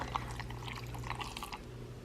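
A double shot of espresso is poured over a glass full of ice, a soft, close trickle of liquid with faint splashes and clinks lasting about two seconds, quiet and without speech.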